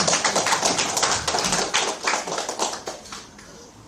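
A room of people clapping in steady, dense applause for about four seconds, moderately loud and fading slightly at the end.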